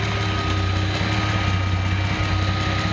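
A small throttled-back engine idles steadily, with a low hum and a constant high-pitched whine running evenly throughout, loud and close with no voices.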